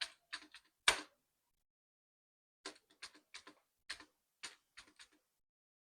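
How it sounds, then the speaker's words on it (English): Sparse, close key presses on a computer keyboard, isolated clicks and short clusters of taps separated by silent pauses, with one louder stroke near the start. "You see, I'm now typing on the second line."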